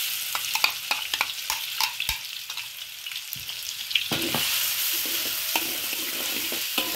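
Garlic, shallots and anchovies sizzle steadily in a hot pan of oil, with close, sharp scraping and clacking from the utensil as the mixture is stirred, and no voices.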